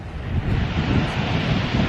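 Steady wind buffets the microphone at Holden Beach, mixed with a broad, continuous wash of surf close by, with no voices and no pauses.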